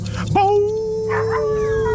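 A night scene in a Telugu action movie carries a single loud, long, steady dog howl that holds one pitch for over a second after a short yelp.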